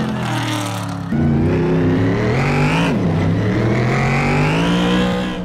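A 1969 Camaro's V8 engine in a racing simulator game, a loud continuous roar that drops briefly after a second, then climbs in pitch, dips again and builds steadily as the car accelerates, with no voices.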